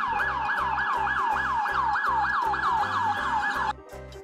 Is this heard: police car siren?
yes